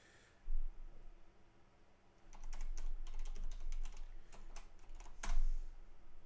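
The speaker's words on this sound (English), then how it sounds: "Apologies for the keyboard." Clicky typing on a computer keyboard sitting right beside the microphone: quick irregular bursts of keystrokes after a short quiet stretch, with a louder clack near the end and no talking.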